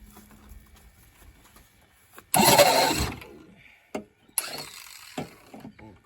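Model airplane gas engine being started with the choke on: a loud burst of sputtering engine noise lasting under a second, then a few sharp pops and short coughing bursts as it fails to keep running.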